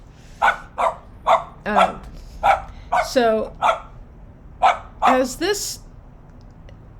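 Several dogs bark in a quick run of sharp barks and yips, loud and close, with a brief spoken word near the start.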